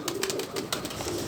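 Pigeons coo softly in a low, repeated murmur, with faint fluttering and rustling in the background.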